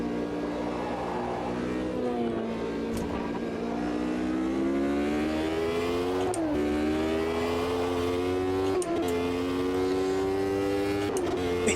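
In the Automobilista 2 racing game, a race car engine whines steadily up close, its pitch climbing and dipping through gear changes, with brief clicks and tyre scrub as the car works through corners.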